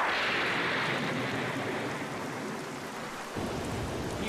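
Steady rain pours down in an anime scene, a dense continuous hiss of falling water that stays loud throughout, with a slight shift in tone near the end.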